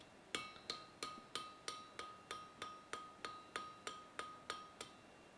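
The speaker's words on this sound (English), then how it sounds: "It turns out this is quite a pleasant hammer to use." A hammer rings against hot metal while Viking-style tongs are forged, about fourteen sharp, bright strikes in a steady, even rhythm, each with a short metallic ring, close by but fairly quiet, with no talking.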